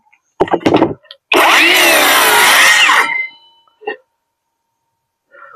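A circular saw whines loudly through a 45-degree cut in wood for about two seconds, with a few short knocks and clatters before and after.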